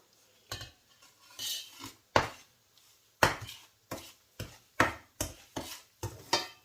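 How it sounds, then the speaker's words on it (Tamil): Dissolved jaggery syrup poured into flour and stirred with a spoon for Chettinad ukkaram sweet, heard as a series of sharp utensil scrapes and clinks against a pot in an irregular rhythm, close and alone. "அதை இப்போ நம்ம இந்த மாவில் ஊற்றுறோம்"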